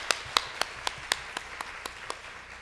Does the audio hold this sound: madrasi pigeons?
no